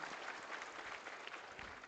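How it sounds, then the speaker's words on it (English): Faint, distant audience applause at the opening ceremony of an IndiaSkills regional competition for the Northeast, a brief continuous wash of clapping as a minister is welcomed to the stage. "Can you have a big round of applause for our Honorable Minister"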